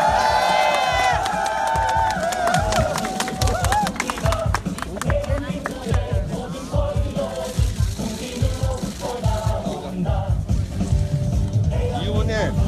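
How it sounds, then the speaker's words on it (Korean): A crowd at a political campaign event breaks into sustained applause and cheering, loud and dense throughout, with voices shouting over the clapping. "우리 이재명 시장과 어머님께 뜨거운 격려의 박수 부탁드립니다"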